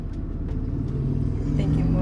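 A motorcycle passing outside a home produces a low rumbling engine drone that builds slightly over two seconds under quiet indoor background.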